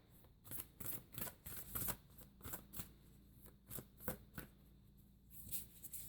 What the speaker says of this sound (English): let us get you some oracle cards here